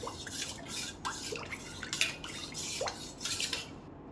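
A spoon stirs a walnut juice drink, clinking and scraping against the vessel in a loose rhythm, close and moderately loud with faint liquid swishing and no voices.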